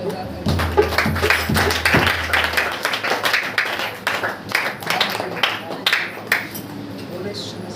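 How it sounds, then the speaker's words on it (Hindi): A congregation claps hands together at a Christian worship meeting, sharp repeated claps in quick succession under a steady hum and voices. "एक बार ताली बजा करके"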